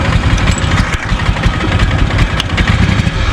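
A Husqvarna zero turn mower engine, just started after choking, idles steadily and close by, a continuous rough rumble with no talking.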